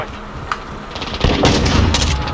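Shotgun blasts and other gunfire in Call of Duty, a few sharp close bursts rising into a denser volley of shots toward the end, with game noise between them.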